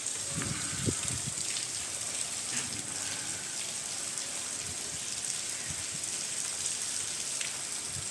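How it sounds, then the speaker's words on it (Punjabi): Steady, dense downpour with a constant hiss and scattered louder drops striking a surface, continuous and unbroken from start to finish. "ਮੀਂਹ ਚੱਲਦਾ ਪੂਰਾ ਜੋਰਾਂ ਦੇ"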